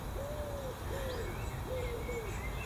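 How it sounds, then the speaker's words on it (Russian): Soft repeated cooing hoots from a bird in a quiet garden, a few short two-part calls in a slow rhythm, faint and somewhat distant over low background hiss. "Вот это странное курлыканье,"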